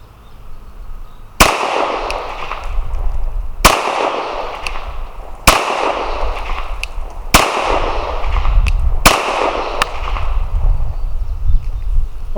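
Five sharp Glock 19 pistol shots at an outdoor shooting range, evenly spaced about two seconds apart, each loud crack trailing into a long echoing decay over steady background noise.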